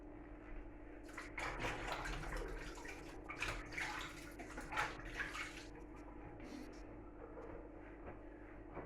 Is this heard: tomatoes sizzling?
no